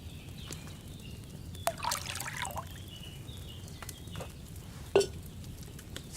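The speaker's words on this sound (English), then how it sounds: "First, you have to pour the right base into the cauldron." Wine poured into a cauldron in Kingdom Come Deliverance II, a quiet game scene with a soft pouring trickle, a few light clinks and a sharp knock near the end, no talking.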